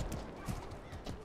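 Horse hooves clip-clop in the medieval combat video game MORDHAU, a steady run of quick hoofbeats amid busy battle noise, moderately loud, with no talk over them.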